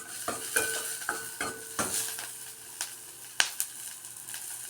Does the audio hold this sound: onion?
yes